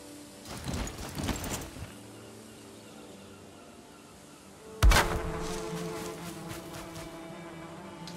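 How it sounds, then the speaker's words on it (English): Bees buzz around a beehive in the video game Valheim, a steady drone with louder swells near the start and again midway, alone without voices. "Bees are happy."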